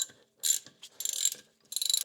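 A hand ratchet backs out the lower 13 mm caliper bolt on a 2013-2022 L405 Range Rover rear brake, three bursts of rapid close clicking separated by short pauses, with no talk.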